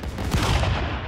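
An explosion in the game Stick Fight bursts as a loud, dense blast of noise with a rumbling tail, heard alone.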